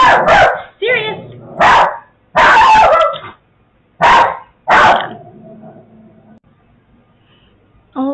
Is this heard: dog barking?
yes